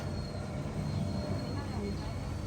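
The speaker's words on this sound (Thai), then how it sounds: "โอ้ยเครื่องบินมาแล้ว" A fixed-wing airplane passing overhead gives a steady, low broadband roar that fills the whole stretch, with people talking over it outdoors in front of a house.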